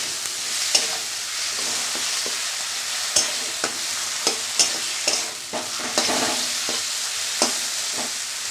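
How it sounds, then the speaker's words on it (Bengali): Spices and broad bean curry being stirred and sautéed in a pan, with a steady close sizzle and repeated scraping stir strokes throughout, no voices. "ভালো করে কষায় নিতে হবে"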